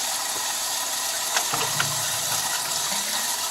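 Running water rinses a freshly hydro-dipped piece, a steady hiss of tap flow with a few light knocks and a low gurgling change partway through as the stream hits the part.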